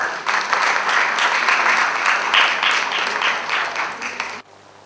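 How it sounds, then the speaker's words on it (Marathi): A live audience bursts into sustained, loud applause welcoming a renowned dancer, choreographer and actress as a guest at a talk event, the clapping steady for about four seconds before cutting off abruptly. "त्यांचे आपण टाळ्या वाजवून जोरदार स्वागत करूया."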